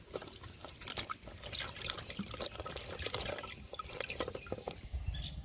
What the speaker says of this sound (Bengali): তো আমি আরেকবার একটু ছাড়ানো শসার উপর দিয়ে জল দিয়ে দিচ্ছি